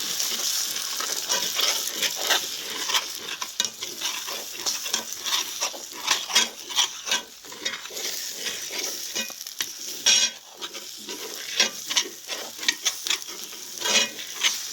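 Egg fries with day lily flowers in a pan for a Chinese scramble, a continuous close sizzle broken by repeated scraping strokes of a spatula stirring against the pan.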